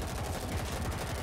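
Rapid gunfire in the zombie shooter World War Z, a dense stream of shots in quick rhythmic bursts over a constant noisy game background.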